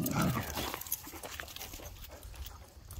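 Dogs on a hiking trail in a Florida nature preserve bark and snarl in a loud burst at the start, then fade into quieter, scattered outdoor noise.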